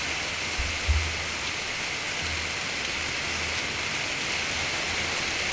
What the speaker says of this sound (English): Just the rain circling around.